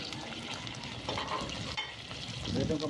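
Garlic sautés in a pan with a soft, steady sizzle, broken by a few stirring scrapes and clinks, and the frying swells louder near the end.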